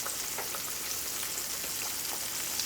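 Green tomato slices fry in a pan on medium-high heat, giving a soft, continuous sizzle with faint scattered pops and no voices.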